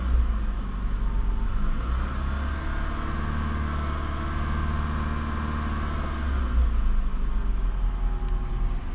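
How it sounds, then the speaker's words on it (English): A 2010 Scion car engine running steadily at idle with a low, even rumble, its pitch rising and falling slightly as the revs are raised and dropped, continuous and fairly close. "You can see the RPMs going up and down."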